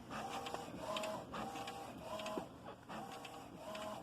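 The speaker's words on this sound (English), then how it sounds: "the printer's printing" An HP DeskJet T100 inkjet printer runs a print job, its carriage shuttling back and forth in repeated whirring passes with faint mechanical clicks, close and steady.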